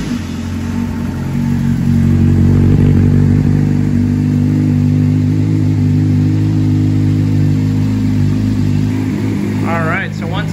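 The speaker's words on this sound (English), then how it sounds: "let's go ahead and get the bike started" A motorcycle engine idles steadily while warming up, a loud, close, even low rumble with a slight rise in revs early on, holding constant until a brief higher squeal near the end.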